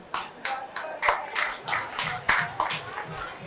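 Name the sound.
audience clapping hands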